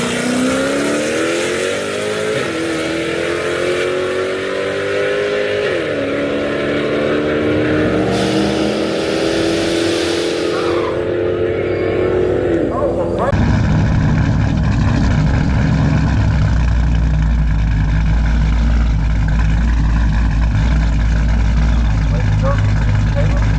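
A supercharged Dodge Challenger 5.7 R/T with a TorqStorm supercharger launches down a drag strip against a Scat Pack, its engine roaring loud and close with rising revs through gear changes, then a harsher, steady full-throttle blast.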